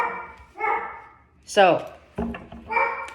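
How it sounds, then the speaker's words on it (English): A dog barks a few times nearby, short sharp yips mixed with someone talking over and between them. "Barking."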